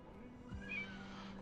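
A cat meows once in a short, rising call, fairly quiet against a low steady hum, with no talk over it.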